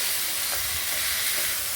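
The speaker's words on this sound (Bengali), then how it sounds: "সেদ্ধ করে রাখা কচুরলতিগুলো দিয়ে এবার ভালো করে নাড়বে" Boiled taro stolons (kochur loti) get stirred in a pan, a dense continuous frying hiss with soft low scraping and shuffling throughout, nearby and fairly loud, with no speech.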